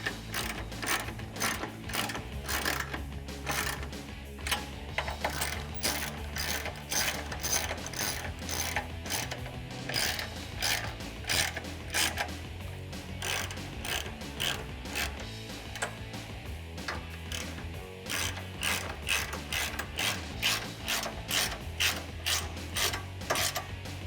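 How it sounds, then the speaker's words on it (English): A 10mm socket ratchet tightens the nuts holding a steel running board step to its brackets on a 2014-2018 Silverado 1500, giving rapid, rhythmic clicking in repeated bursts, close up and without speech. "now with the 10mm socket, tighten down the nuts that are holding your step to the brackets."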